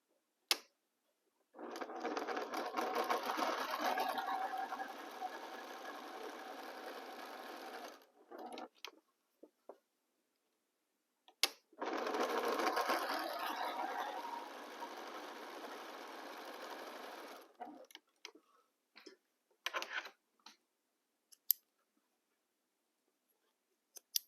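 A sewing machine stitches along the outside lines of aligned fabric squares in two steady runs of about six seconds each, loud and close. Short clicks and handling noises from the fabric come between the runs.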